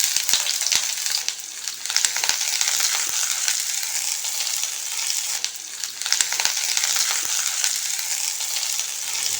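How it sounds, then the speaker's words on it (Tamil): Sliced onion fries in a pan for a spicy chutney, a steady close sizzle with scattered small pops throughout. "வெங்காயம் நல்லா வதங்கிடுச்சு"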